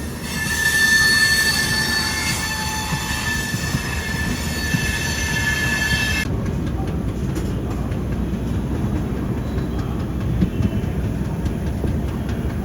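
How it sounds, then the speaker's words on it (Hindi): An Indian passenger train pulls away toward Jalgaon from Bhusawal Junction, its wheels squealing in a loud, sustained high whine that stops abruptly partway through, leaving steady rumbling and clattering rail noise close by. "और अपनी ट्रेन बढ़ गई जलगांव की तरफ"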